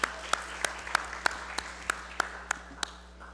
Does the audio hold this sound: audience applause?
yes